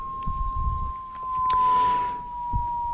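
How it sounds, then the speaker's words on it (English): A steady 1000 Hz siren tone, used to demonstrate the Doppler effect for a source moving at 25 metres a second, holds a pure whistle-like pitch with a slight shift, faint against low background rumble. "If a 1000 Hz siren was moving towards you at 25 metres a second"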